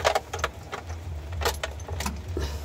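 Car keys jangle in short metallic bursts during a used-car inspection, close to the microphone, over a low steady engine or room rumble with no talking.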